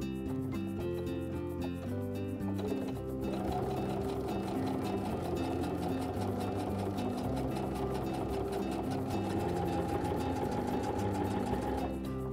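A Baby Lock sewing machine fitted with a bi-level foot stitches a flat felled seam, starting with a steady mechanical whir that runs evenly for about nine seconds, then stops.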